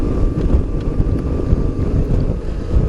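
A BMW R850R motorcycle on a short forest ride, buried under heavy, close wind buffeting at the microphone: a loud, continuous low rumble that swells and fades slightly, with no clear engine note.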